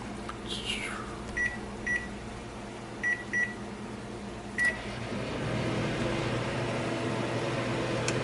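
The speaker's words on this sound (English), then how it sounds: "I'm going to stick this in the microwave for 5 minutes" Keypad beeps sound a few times, then a microwave oven hums steadily with a low, continuous drone.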